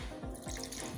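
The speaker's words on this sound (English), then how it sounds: "And I'll add a little water." Water trickles and splashes briefly into a cooking pot, added in a short pour while preparing Nigerian white soup with yam and catfish; close and faint, with no talk.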